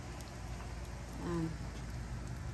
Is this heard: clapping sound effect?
no